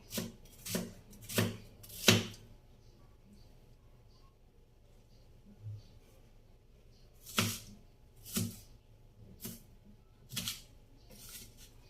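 Knife chopping onion finely on a cutting board for a home-cooked dish, with a quick run of four crisp thuds, a pause, then five more spaced chops, close and fairly quiet.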